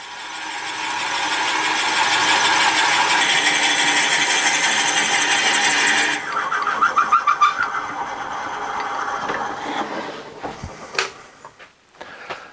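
A drill bit held in a Jacob's chuck bores into wood, making a loud, steady grinding whir for about six seconds. Rapid ratcheting chatter, scattered knocks and clicks follow as the work slows.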